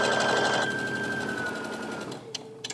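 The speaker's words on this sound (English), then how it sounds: "I'm sewing on the interfacing side right now" A sewing machine runs steadily up close, stitching fabric along the interfacing side of a bag, then slows and stops, followed by a few soft clicks.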